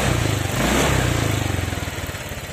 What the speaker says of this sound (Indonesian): Nah, ini gue gas spontan teman